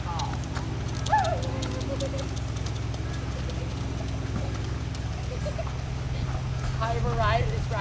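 Horse hooves clip-clop steadily during bareback riding at a summer camp in San Diego, a continuous rhythmic patter under a low hum, with birds chirping and people talking over it.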